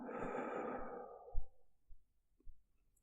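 A single long, gentle exhale through the mouth during an asthma-relief breathing exercise, soft and close, fading out over about a second and a half, followed by faint quiet breaths and light clicks.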